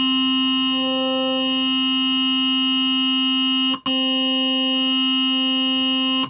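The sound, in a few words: synthesizer wavetable waveform tone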